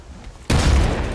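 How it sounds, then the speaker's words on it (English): A grenade explodes in the Apex Legends battle-royale shooter: quiet ambience, then a single sudden loud blast that holds as a dense rumbling roar for the rest of the moment. "Oh my god, what a nade."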